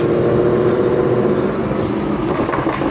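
Supercharged Ford Mustang engine running loud and close, a steady heavy rumble with a broad roar that grows slightly rougher toward the end, no voices over it.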